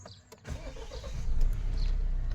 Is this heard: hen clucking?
no